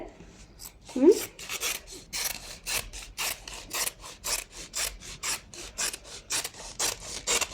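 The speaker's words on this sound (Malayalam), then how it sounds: "ഇതുപോലെ നാല് പീസ് ക്ലോത്താണ് ഞാൻ കട്ട് ചെയ്യുന്നത്" Cloth being cut into four pieces for homemade bed sheets, heard as a steady run of rhythmic rasping strokes, close and moderately loud, with no talking.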